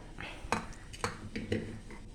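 Cut potato pieces drop into a metal pressure cooker in four quick clinks and knocks about half a second apart, quiet and close, with faint kitchen background between them.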